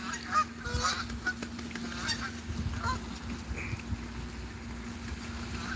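A flock of Canada geese honking repeatedly in loud overlapping calls outdoors, with a steady low engine hum and splashy background noise throughout.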